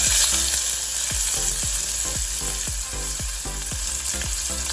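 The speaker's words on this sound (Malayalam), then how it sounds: "ചൂടായി കഴിയുമ്പോൾ നമുക്ക് സവോള ഇടാം" Sliced onion fries in hot oil for dal fry, a loud continuous sizzle close by, broken by a regular series of low knocks roughly twice a second as it is stirred.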